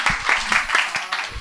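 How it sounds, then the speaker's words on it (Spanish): Audience applause in a Spanish television studio during a comedy talk show, a short burst of steady clapping from a small crowd. "Un aplauso, por favor, para ponerte en contexto"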